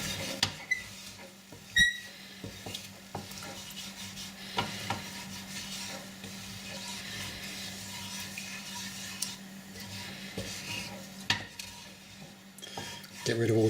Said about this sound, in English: I'm just going to deglaze my pan with some chopped tomatoes, a tin of chopped tomatoes